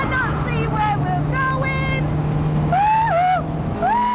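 A car is driven hard around a race track, its engine note climbing and falling with gear changes and throttle through the bends, loud and close, with a steady low hum beneath.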